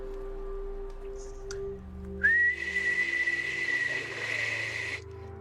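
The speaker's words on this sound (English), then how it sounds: "Grimes toots on a whistle hanging around his neck." A whistle hung around a man's neck gives a single sustained, shrill toot lasting a few seconds, loud and steady, over a faint droning background with a brief tick just before it.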